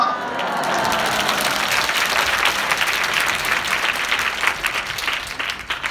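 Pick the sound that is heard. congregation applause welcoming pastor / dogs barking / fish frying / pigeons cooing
congregation applause welcoming pastor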